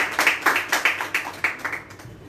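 Applause rising to acclaim the Lord at a family Easter worship service held at home, a sparse handful of claps in an irregular rhythm, fairly close and moderately loud, fading toward the end.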